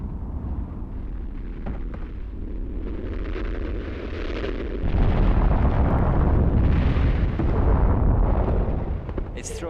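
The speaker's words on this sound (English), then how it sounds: "It's throwing out massive amounts of red-hot rock, and you can hear the bangs as they hit the ground, the great thumps." Volcanic eruption roaring as red-hot rocks rain down, a loud rumbling wash with wind buffeting the microphone, swelling louder halfway through, with dull thumps and bangs of rocks striking the ground.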